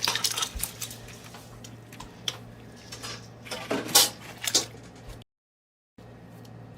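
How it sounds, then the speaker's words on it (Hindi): About 1.5 kg of rice is poured into a pot for Hyderabadi chicken dum biryani, giving close rattling and rustling bursts with clinks. A short silent gap falls near the end. "तो अब इसके अंदर शामिल करेंगे चावल। चावल डालेंगे।"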